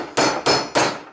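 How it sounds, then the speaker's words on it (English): Hammer striking a car exhaust pipe while fitting a flexible muffler section, three sharp metallic blows at an even pace, each ringing briefly before the next, close and loud with no talk. "This hammer is cool stuff"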